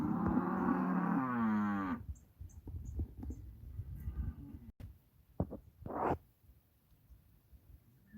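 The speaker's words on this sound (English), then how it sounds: "The cows are not happy." Cattle on a homestead moo loudly and close, a long drawn-out low call at the start, followed by quieter farmyard shuffling and a few softer sounds.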